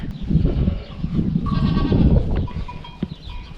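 Goats bleat a few times close by, with harmonic cries rising over a busy barn background of shuffling and low rumble, during kidding season in cold weather.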